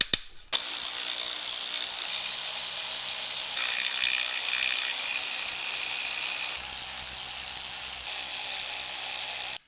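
A steady ratcheting whir runs for nearly ten seconds as timing cover bolts are undone on a seized BMW M10B20 engine from a 2002, close and continuous after a sharp start, with no voices.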